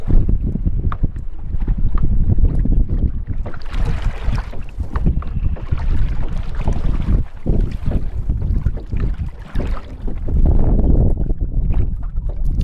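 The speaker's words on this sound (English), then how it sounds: "The wind is blowing pretty good." Strong wind of roughly 20 mph buffets the microphone while kayaking on Merritts Mill Pond in Florida, a steady loud roar with gusty surges and water lapping against the kayak, with no talking.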